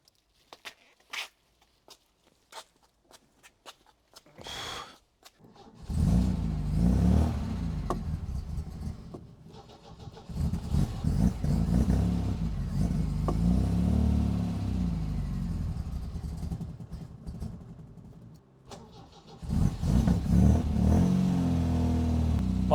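A cold supercharged MGB GT engine cranks, catches and revs unevenly with a loud, close rumble, dies away briefly, then fires and revs again, with no talk over it.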